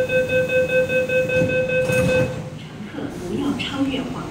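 An MTR East Rail Line train stands at the Kowloon Tong station platform behind full-height platform gates, with a steady chime tone and hum that give way to rumbling and clatter as it leaves, loud and close.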